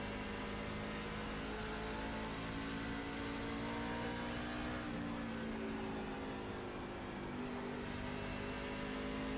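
A pack of race cars in the iRacing video game drones around Bristol, dense, loud and unbroken, engines blending into one steady roar.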